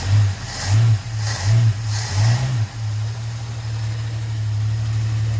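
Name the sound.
car engine revving with dual Holley 1920 carburetors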